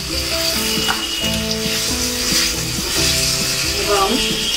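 Shingara filling with ginger paste frying in a pan over a low gas flame, a steady close sizzle with occasional stirring scrapes under a person talking.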